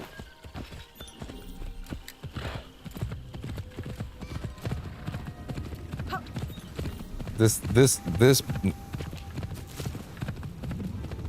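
A horse's hooves clip-clop steadily in Assassin's Creed Shadows, moderately close, with a brief neigh midway and a person talking over it.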